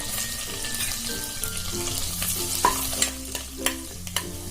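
Bay leaf, cardamom and ginger frying in hot oil and butter make a steady close sizzle, with a spoon stirring and scraping the pan and a few sharper clinks toward the end.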